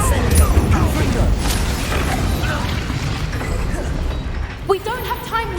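Blasting-curse explosion in Hogwarts Legacy, a sudden burst among dense spell-combat noise, with a sharp pop and whooshing effects near the end over a busy, loud battle mix.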